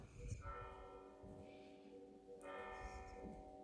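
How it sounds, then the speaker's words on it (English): Bells ring in the distance with sustained, overlapping tones, two strikes swelling and fading against faint background noise. "you can hear the church bells here"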